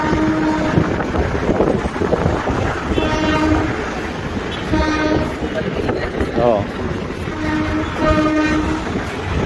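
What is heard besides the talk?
train passing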